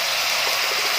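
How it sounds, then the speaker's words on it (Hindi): Water poured into a pan of chana pulao, with chickpeas, tomatoes and turmeric frying, giving a loud, steady, close gushing splash that fills the whole moment without a break. "थोड़ा सा पानी डालेंगे इसमें, पानी डाल के थोड़ी देर ढकना दे के"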